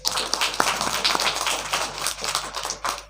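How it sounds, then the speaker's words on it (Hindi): An audience applauds for children who recited mantras, a brief burst of scattered, moderately loud hand clapping. "इन सब के लिए एक बार ताली बजाइए।"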